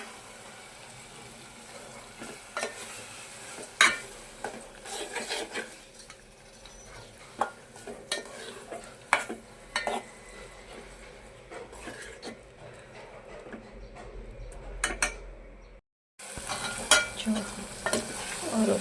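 Tomatoes and chilies sizzle softly in a pan while a utensil scrapes and taps against it, making irregular stirring clicks; the sound briefly cuts out near the end before returning.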